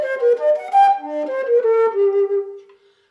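A solo flute plays the opening phrase of a Bach partita, a flowing line of clear melodic notes that is close and moderately loud, ending on a sustained tone that fades, with no voices.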